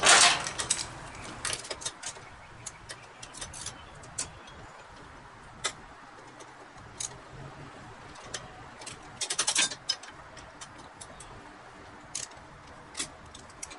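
A ratchet wrench works bolts loose on a car's front fender, with bursts of quick clicking at the start and again midway, separated by quiet pauses and isolated taps.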